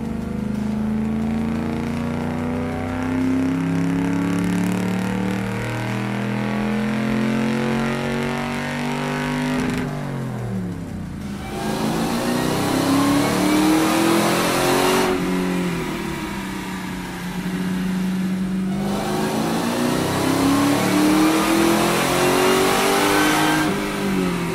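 A car engine runs on a DynoJet dynamometer, revving up in long rising pulls, dropping back briefly around the ten- and fifteen-second marks before climbing again, loud and close with no talking.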